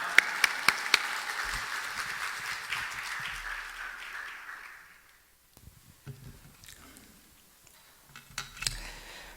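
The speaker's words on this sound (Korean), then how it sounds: "우리 할렐루야 박수로 환영하겠습니다." A church congregation at a revival meeting applauds to welcome a pastor, clapping strongly at first, then fading out by about five seconds, followed by a few scattered small sounds.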